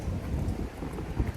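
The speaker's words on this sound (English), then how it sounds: "I need to do this mic check, especially today because it is very windy" Strong wind outdoors on an Edinburgh street rumbles low and steadily against the microphone in brief, uneven gusts, with no voices.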